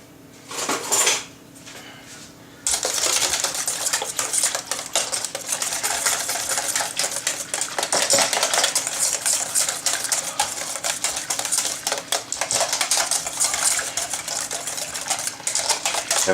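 A spoon stirs white pepper and salt into chilled raw avocado soup, giving a fast, continuous run of clinking and scraping against the bowl that is loud and close, after a brief knock and quieter lead-in.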